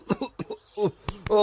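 A man coughs a few times after smoking a cigarette in a Telugu comedy movie scene, producing short, close, harsh bursts with throat clearing between them and a short stretch of talk.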